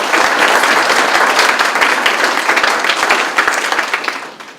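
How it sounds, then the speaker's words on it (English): A loud round of audience applause for panelists at a social work career panel, dense continuous clapping close by that holds steady and tapers off at the end. "let's go ahead and give a round of applause to our panelists."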